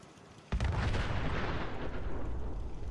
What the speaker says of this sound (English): Why is there so many explosions going on?